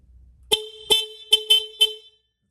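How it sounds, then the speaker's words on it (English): A Honda CBR500R motorcycle horn beeps five short times in a garage, sharp and loud at close range, with brief gaps between the honks and no talking. "Okay, so there's the horn."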